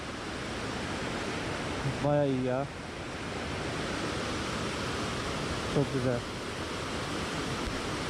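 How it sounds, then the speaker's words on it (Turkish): A mountain stream flows steadily at a village picnic spot, a constant rushing hiss filling the background while people briefly speak over it. "Dere akıyor arkadaşlar böyle."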